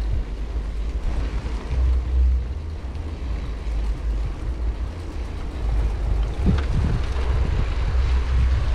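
Strong wind buffets the microphone in continuous low rumbling gusts during an evening bike ride in The Hague, rising and falling throughout with no voices.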